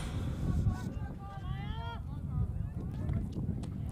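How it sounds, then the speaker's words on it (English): Steady low wind rumble buffets the microphone throughout at a softball game, with distant voices and faint chirpy sounds faintly audible beneath it. "Hopefully that wind isn't stopping things for you to hear."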